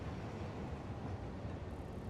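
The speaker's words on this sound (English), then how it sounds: "There goes my Sam train." A train rolls past in the factory-building game Satisfactory, a low, faint continuous rumble and clatter without talk.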